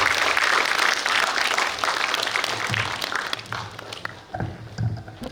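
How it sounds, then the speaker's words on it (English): Audience at a Toastmasters district meeting applauds steadily for several seconds, the clapping thinning toward the end as a few voices and stray claps remain. "Let's give a round of applause to her."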